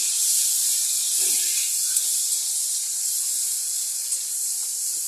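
Smashed prawns hit hot oil with green chilli and nigella seeds already frying, producing a loud, steady close-up hiss that fades slightly over several seconds, with a faint clatter now and then.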